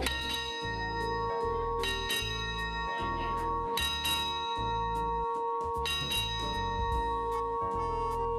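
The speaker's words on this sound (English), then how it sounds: "Each day, whilst at sea, at midday, a deck officer rings 8 bells." A ship's bell on a transatlantic liner is rung eight times at midday by a deck officer at sea, sounding as loud, evenly paced paired strikes with bright ringing overtones that carry between blows.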